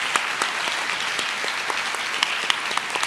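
Steady applause from a crowd, a dense wash of clapping that holds evenly for a few seconds with a few sharper individual claps standing out.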